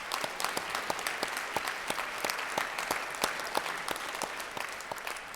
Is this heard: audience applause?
yes